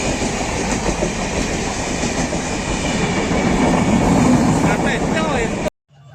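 Onboard a passenger train running from Lingaraj station to Puri station in Odisha, a steady rumble and rhythmic wheel clatter fill the cabin, then stop abruptly near the end.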